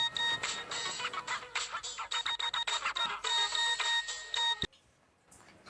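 A telephone ringtone plays loudly and alone in a Pakistani drama scene, a repeating electronic melody with steady tonal pulses that cuts off abruptly near the end, followed by faint quiet.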